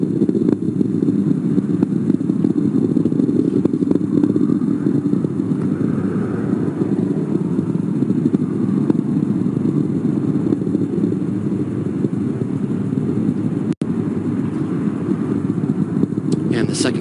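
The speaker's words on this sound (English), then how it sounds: "the 9 Merlin engines will sequentially shut down" Falcon 9 rocket with nine Merlin engines in flight just past max Q, a steady broadband roar rumbling continuously and loudly throughout, with a brief sharp click near the end.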